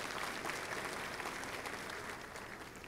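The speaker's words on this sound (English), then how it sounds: "So give yourselves a round of applause." The audience at a 2015 Power of Pink charity luncheon gives a round of applause, a dense, even wash of many clapping hands from a large crowd that stays steady for a few seconds.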